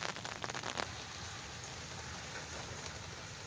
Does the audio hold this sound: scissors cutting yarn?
no